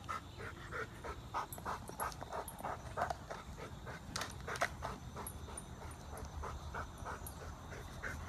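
A Rottweiler pants in quick, steady, rhythmic breaths that stay faint and close throughout, with no other sounds over them.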